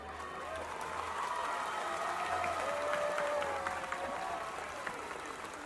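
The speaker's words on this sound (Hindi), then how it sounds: "तालियों से बोलेंगे अजय सर के बारे में" Crowd applause at a school's annual day function in a large hall, a fairly faint, steady spread of clapping with cheering tones and raised voices mixed in, heard from some distance.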